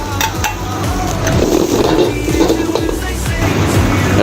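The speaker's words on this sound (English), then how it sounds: "So we stir fry this." Crab is stir-fried with curry powder in a wok, a steady loud sizzle with repeated scraping and clanking of a metal utensil against the pan.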